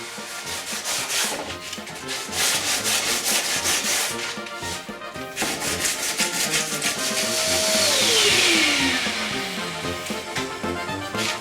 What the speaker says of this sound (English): A new sanding exercise.